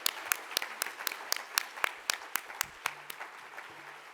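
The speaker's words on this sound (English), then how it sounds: "Everyone give a big round of applause." A conference audience claps, with sharp individual claps standing out over a steady patter of applause that tapers off toward the end.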